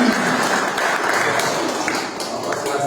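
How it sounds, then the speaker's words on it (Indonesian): An audience at a live event applauds steadily, with dense clapping that stays loud and fairly even for a few seconds. "Berikan tepukan untuk Bapak Anom"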